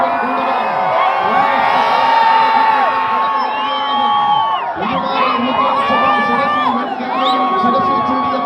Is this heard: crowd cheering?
yes